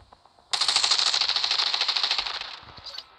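Sustained burst of automatic gunfire in the video game The Division Resurgence, starting abruptly and rattling on rapidly for over two seconds before tapering off, loud and close, with no talk.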